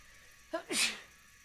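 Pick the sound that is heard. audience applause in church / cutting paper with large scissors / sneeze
sneeze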